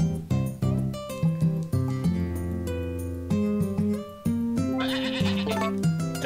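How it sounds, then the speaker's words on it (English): Goat bleats from the farm game Harvest Moon: A Wonderful Life, a run of loud, wavering synthesized cries that repeat back to back over a backing melody, with no talk over them. "No, you shut up, goat."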